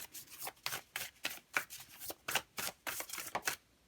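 An oracle card deck being shuffled by hand, steady rhythmic riffling bursts repeating about every half second, close and fairly loud, with no talking.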